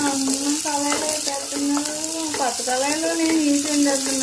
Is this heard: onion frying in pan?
yes